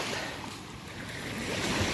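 Surf washing steadily onto the seashore in the early morning, still a little dark, a continuous broad rush with a faint wind undertone and no voices.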